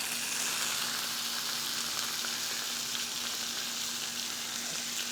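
Thick-cut bacon frying on a Blackstone griddle turned up to high, a dense, even sizzle with a constant crackling hiss, close and unbroken, no talking.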